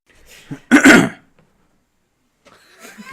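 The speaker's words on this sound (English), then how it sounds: "I had to clear my throat before we started." A man clears his throat once, close and loud, a short rough rasp preceded by a small breathy catch, followed by quiet and faint movement.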